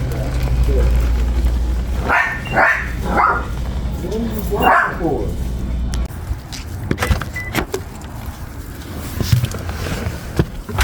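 A vicious dog barks in a few quick bursts near a parked car during a food delivery run, with people talking and a car idling underneath, then fades into car and handling noises.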